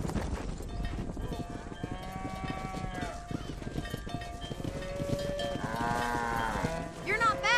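A cattle herd in the Red Dead Redemption video game lows and moos repeatedly over steady hoof clatter and a continuous music bed, with several overlapping calls swelling near the end.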